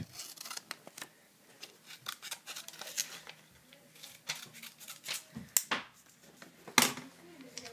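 Scissors snipping along pencil-drawn lines on paper, a run of crisp, close, quiet cuts in uneven rhythm with small rustles of paper between them.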